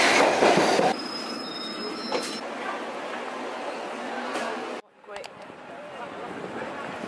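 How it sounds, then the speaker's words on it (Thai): A train at King's Cross railway station rumbles with a high wheel squeal near the start, then continues with a steady mechanical din and a sharp drop in level partway, while people talk. "นี่เราอยู่ที่สถานีรถไฟ King Cross"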